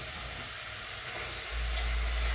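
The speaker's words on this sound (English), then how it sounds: "I'm gonna saute it by itself because it takes the onions a little bit longer" Half a yellow onion sautés in a pan with a steady close hiss and sizzle, which swells louder partway through as the pieces are spread out.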